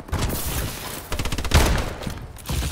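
Rapid bursts of automatic gunfire from a first-person shooter video game, loud and close, firing in quick rattling volleys with short pauses between them.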